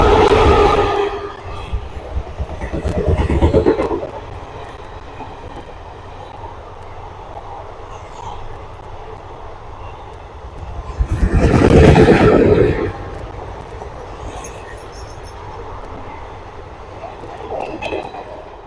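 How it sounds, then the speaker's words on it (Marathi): The Kolhapur–Mumbai Koyna Express passes Madhavnagar station without stopping. Two loud swelling bursts, one early and one midway, stand out over a quieter steady rumble of the passing train. "कोल्हापूरहून मुंबईला जाणारी गाडी नंबर 11030 कोल्हापूर मुंबई कोयना एक्सप्रेस"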